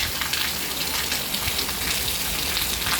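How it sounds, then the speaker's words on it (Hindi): First monsoon rain in Dukki: a steady, dense hiss of falling rain with no break, close and even in loudness. "दोस्तों, ये थी हमारी मानसून की पहली बारिश"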